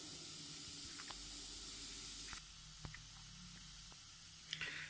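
Minced meat with turmeric cooking in a pan for stuffed pepper dolmeh, giving a soft, steady sizzle and hiss heard close and quiet, with a few faint clicks and taps against the pan.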